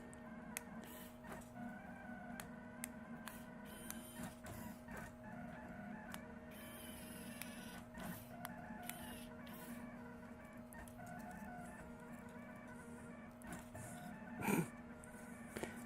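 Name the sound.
3D printer printing with white PLA filament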